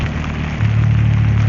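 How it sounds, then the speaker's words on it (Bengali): Heavy, steady rain falls in Dhaka as a dense, even wash of noise with no thunder or wind, joined midway by a louder low drone that holds to the end. "খুবই স্মুথ অ্যান্ড মানে ঘন বৃষ্টি হইতেছে।"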